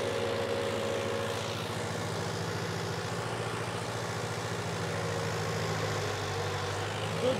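A Mahindra Arjun Ultra 1 605 DI tractor with a modified diesel pump runs in second gear. Its diesel engine gives a steady, loud, low throbbing drone throughout, with wind noise and no speech.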